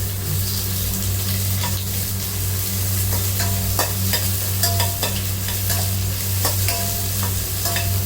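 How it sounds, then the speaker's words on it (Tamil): Two large onions, sliced lengthwise, sauté in ghee for vegetable fried rice, giving a steady close sizzle with scattered scraping stir clicks throughout, under a constant low hum. "ரெண்டு பெரிய வெங்காயம் நீல வாக்கில் வெட்டி வச்சுருக்கேன் போட்டு வதக்கிக்குவோம் நெய் விட்டோம்"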